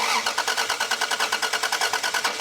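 A Toyota Supra with a 7M engine and no airflow meter fitted cranks over and over, the starter churning in a fast, even rhythm, close and loud, with no talking.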